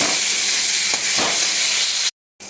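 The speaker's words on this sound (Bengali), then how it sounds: "আলুটা ভেজে তুলে নিই" Potatoes frying in oil give a steady, dense sizzle close by, with faint stirring scrapes, then a sudden brief drop to silence before the frying noise returns.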